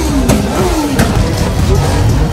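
Nissan GT-R R35 turbo engine revving up and down in short loud bursts, a throaty mid-pitched roar rising and falling close by.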